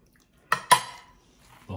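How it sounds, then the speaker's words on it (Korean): Two quick bright clinks of dishes ring out close by as salad is served into a bowl at a birthday meal, with voices murmuring faintly afterward. "이 그릇에. 그래 거기다 샐러드 덜자."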